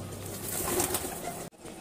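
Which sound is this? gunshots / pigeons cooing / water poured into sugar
pigeons cooing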